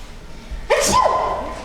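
A single sharp sneeze during a stage play, with a quick intake and explosive burst, then a trailing breathy tail, in an otherwise quiet room.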